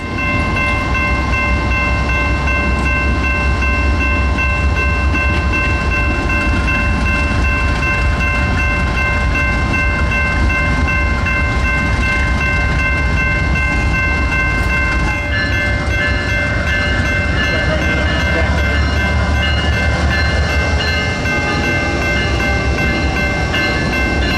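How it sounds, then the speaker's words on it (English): A passenger train shunts slowly through a station in central Florida, steady low rumble with sustained high tonal squeal of wheels, shifting partway through, loud and continuous. "cut the block of passenger cars in half and shove the front half back into the station"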